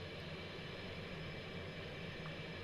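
A fighter jet cruises in the X-Plane 11 flight simulator, giving a steady, even drone of engine noise at low level with no breaks or changes.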